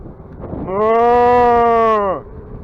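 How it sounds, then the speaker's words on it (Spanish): A single long, loud moo sounds close by, rising, holding steady and fading after about a second and a half. "As vacas ahí abajo."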